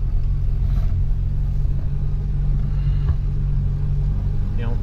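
A 1963 Renault 4L Super on the road, its engine and road rumble droning loudly and steadily from inside the cabin, with faint voices in the background.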